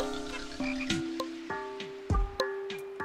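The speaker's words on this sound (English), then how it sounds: "The croaking turns to silence as a little frog beckons you to come" Frog croaking in a video game, a run of about seven distinct croaks with gliding pitch spaced roughly every half second, clear and close with no speech.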